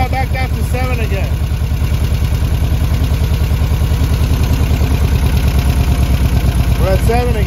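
A loud engine idles steadily with a rhythmic pulsing throb while its IDF carburetors are synchronized, with someone speaking over it.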